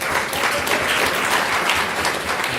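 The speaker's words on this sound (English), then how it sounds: "I would like to have you give yourselves a round of applause" Alumni gathered for a 50th anniversary celebration of a Russia exchange program applaud loudly, a full, continuous burst of clapping from a sizable audience with no talk over it.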